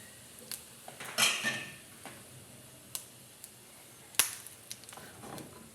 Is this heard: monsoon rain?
no